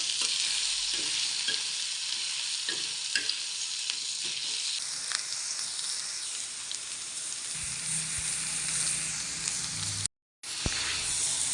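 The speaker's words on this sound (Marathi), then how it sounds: "तेल टाकलं, त्याच्यात कांदा टाकलाय" Chopped onion fries in oil for a spicy Maharashtrian amti masala, giving a dense, continuous close-up sizzle with a few soft taps of stirring and a brief drop to silence near the end.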